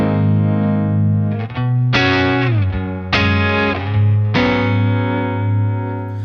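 An electric guitar played through a Jam Pedals Harmonious Monk pedal gives sustained, distorted chords that change a few times, with a shimmering modulated, reverberant tone, loud and close with no talking.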